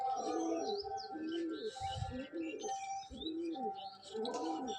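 A male pigeon coos up close in repeated rolling, throaty phrases with short gaps between them, while faint chirps from other birds sound in the background.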